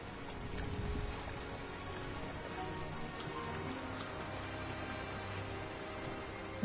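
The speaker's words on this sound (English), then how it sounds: "It was raining regardless." Steady rain patters densely on surfaces in the VR video game The Invisible Hour, a continuous broadband hiss with scattered drops and no voices over it.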